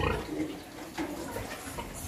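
Sow grunting softly as five newborn piglets nurse on a pig farm, low close grunts with faint squeaks over a steady background, no talk.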